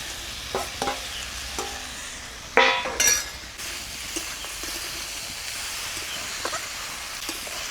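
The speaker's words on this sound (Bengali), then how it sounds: "এবারে দিয়ে দেবো ভাজা আলু আর মাছের তেল" Fried potatoes and fish oil go into a pan for a Bengali fish-oil chorchori and are stirred, giving a soft background sizzle with sharp clinks of a utensil against the pan around the middle.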